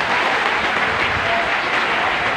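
A school closing-exercise crowd of teachers, staff and families claps steadily, dense and sustained applause filling the hall at close range with no break.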